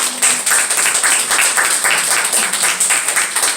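Church congregation applauding together, a dense steady wash of clapping from many hands that carries through the whole stretch at moderate loudness.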